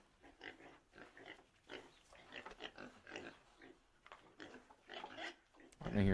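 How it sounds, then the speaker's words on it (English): Pigs grunt and oink in a horror video game, repeated snorting calls scattered over several seconds, fairly faint and mixed with growly rumbles, ending in a louder burst. "Why am I hearing pigs?"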